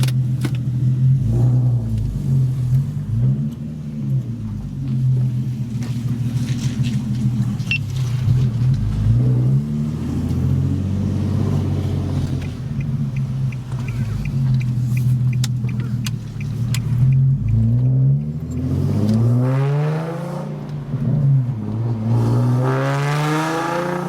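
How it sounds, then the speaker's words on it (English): A very loud Infiniti G37 exhaust roars and rumbles close by, revving up and down repeatedly as the car drives, with no talking. "Possibly the loudest exhaust ever"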